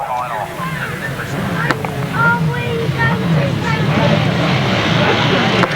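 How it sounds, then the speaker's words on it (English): Grasstrack racing motorcycles at the start of the Berks Bonanza Solo A final in 1992, a loud massed engine roar rising as the revs build, under excited commentary. "Here we go then, the revs rise, the gate goes up"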